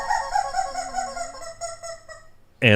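A rubber chicken toy is squeezed, letting out a long wheezy squawking honk that trails off, followed by a sudden louder burst at the very end; no talking over it.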